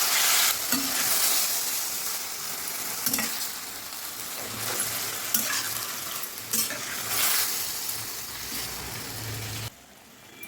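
Minced mutton kheema frying in ghee, sizzling loudly and steadily while a spoon scrapes and stirs it in the pan at close range, with no voices.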